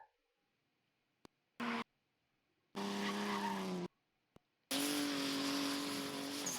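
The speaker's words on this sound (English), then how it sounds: "the BMWs can definitely drift, but they're not exciting to watch" BMW cars drift at a grassroots drift event. Tire squeal and engine roar come in separate loud bursts, one short and two long, with near silence between them.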